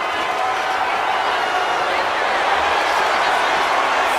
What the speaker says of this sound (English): Crowd booing her heavily